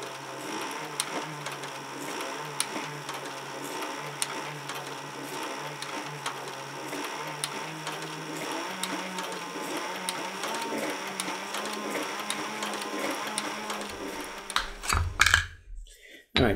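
A sewing machine stitches a leather paddle holster for a Springfield EMP pistol, running in a steady, rapid mechanical chatter for most of the stretch before stopping abruptly near the end.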